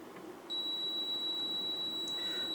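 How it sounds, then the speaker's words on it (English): A multimeter's continuity tester gives one clear, steady high-pitched beep that starts abruptly and holds until the end, heard close and alone during car stereo installation work. "My meter is going to always beep, likely."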